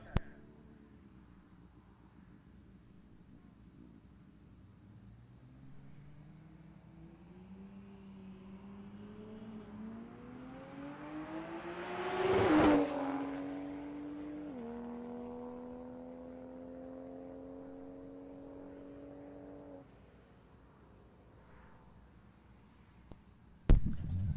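Toyota Supra on a drag strip revving and accelerating hard, engine pitch climbing steadily through gears, peaking loud around midpoint, then holding a steady drone before cutting off near the end.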